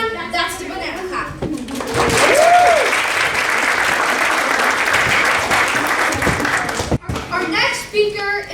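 An audience at a guild induction ceremony breaks into applause, a dense wash of clapping that swells and holds for several seconds before cutting off, with a voice and other talk heard before and after.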